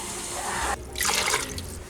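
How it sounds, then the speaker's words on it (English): Water pours from a tap into a cooking pot, filling it partway for a stew with stewed tomatoes and beef broth; a steady close rush of liquid with a brief break midway, no talk. "I'm going to fill this about halfway with water"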